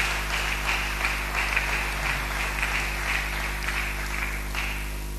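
Steady applause from a crowd fills the room, a continuous patter of clapping over a low electrical hum.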